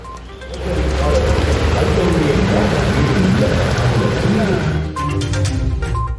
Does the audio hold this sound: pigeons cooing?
no